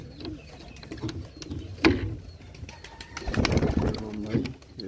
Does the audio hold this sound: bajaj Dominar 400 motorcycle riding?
no